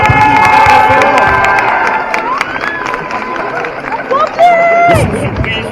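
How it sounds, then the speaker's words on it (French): A cosplay contest crowd at a convention cheers and applauds loudly throughout, with excited shouts and whistles rising over the steady roar. "On les applaudit très fort!"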